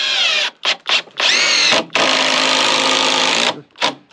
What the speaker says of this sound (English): And I'm using some of these 6-inch screws.